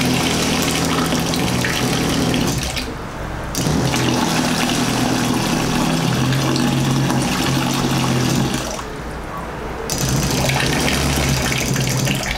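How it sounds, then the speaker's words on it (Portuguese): A cheap irrigation pump converted into an automatic water pump runs as tap water flows, giving a steady loud hum and gush that pauses briefly twice before resuming. "isso aí foi a parte aqui do teste da torneira com a nossa bombinha"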